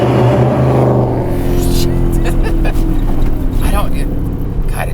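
Lexus IS F V8 engine revving, a loud, deep, steady engine note that rises in pitch, heard from nearby with someone talking over it.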